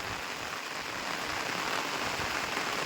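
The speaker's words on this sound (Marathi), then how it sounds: "या नोव्हेंबर महिन्यात पण एवढं पाऊस किती आहे बघा" Heavy November rain pours steadily in a flooded Konkan farming village, a dense, constant wash of hiss and patter close by with no voices.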